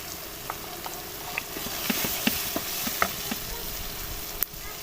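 Red chili powder and turmeric sizzle in hot oil for egg curry, a steady close hiss with light spoon taps and clicks throughout and a sharper knock near the end, and no talking.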